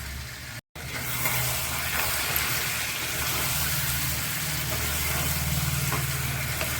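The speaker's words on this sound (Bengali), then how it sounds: "আর একটু নাড়াচাড়া করে দেই" Chicken pieces sautéing in a pan as the meat releases its oil, with a steady, close sizzle and frying hiss running throughout, broken by a brief drop near the start and soft stirring movement under it.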